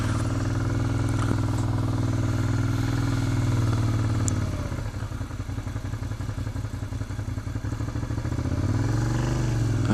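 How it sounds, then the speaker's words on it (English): A motorcycle engine hums steadily at idle or low speed, then its note shifts into a rougher, pulsing clatter before rising again as the bike speeds up toward second gear during riding practice. "I'm going to speed up a bit and get into second gear"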